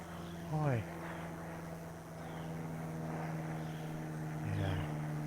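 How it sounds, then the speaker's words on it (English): An airplane passes overhead at a nature center, with a faint, steady propeller drone in the distance beneath brief voices. "Well, there's sure a lot of planes flying over today."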